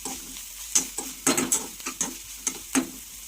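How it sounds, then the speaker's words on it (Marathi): Finely chopped medium onion frying in a pan while being stirred, with soft sizzling under a series of sharp utensil scrapes and taps against the pan, close and clear with no talking. "एक मिडियम साईजचा कांदा घेतलेला आहे बारीक कट करून त्याला पण व्यवस्थित फ्राय करून घेऊया"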